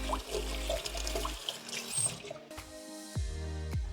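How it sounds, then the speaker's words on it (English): Water runs from a faucet onto a spatula being rinsed in a sink, a steady close trickle and splash with brief drips and clinks, while a low hum continues underneath. "Rinse off my spatula."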